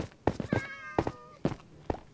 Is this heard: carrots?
no